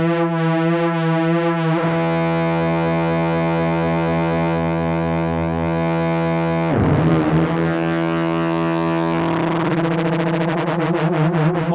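Make Noise Strega synthesizer drone with a modulated two-pole filter, sustained stacked harmonic tones shifting and sweeping, with a sharp dip and swell partway through, loud and alone with no talking.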